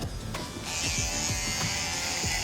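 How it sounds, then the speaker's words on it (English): Close, steady buzz of an electric shaver balding out a skin taper on a haircut, with a brief click at the start before the motor hum settles at full strength. "you'll take your T-out liner and your shaver right underneath that, and you'll bald all that out"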